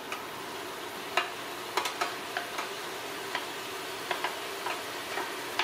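Tomatoes for lecsó sizzle quietly in a pan, a soft hiss broken by a scatter of sharp clicks and taps, likely a spoon knocking the pan while stirring, with no talking.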